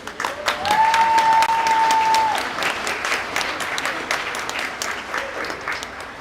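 A crowd at a swim meet applauding seniors as each is recognised, a loud sustained burst of clapping that swells and then thins out, with a voice talking over it briefly.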